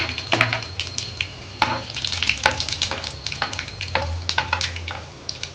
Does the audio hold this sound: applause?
no